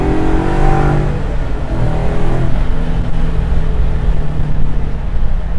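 A 1967 Ford Mustang Fastback with a Coyote V8 swapped in pulls hard with a loud, close engine roar whose pitch climbs through the rev range, then settles into a sustained, throaty drone.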